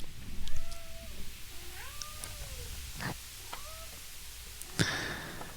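A cat meows several times indoors, a string of drawn-out, rising and falling calls at moderate volume, followed by a sharper, higher cry near the end.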